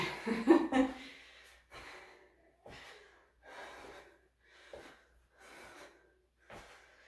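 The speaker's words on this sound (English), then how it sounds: "I'm already breathing hard, you can hear it." Heavy, rhythmic breathing after exercise, close up: a loud gasp at first, then about six regular puffing breaths, each a short huff.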